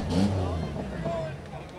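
A demolition derby car's engine keeps running in the arena at the Chautauqua County Fair in Dunkirk, NY, a steady low rumble under crowd babble and an announcer's voice.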